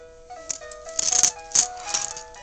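A baby shakes and plays with a bunch of metal keys, making light jingling, clattering bursts that come and go over a couple of seconds, close by with no talking.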